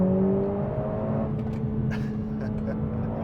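A Mercedes A45S AMG's 2-liter engine accelerates, holding a strong steady drone that eases slightly, with a voice talking over it.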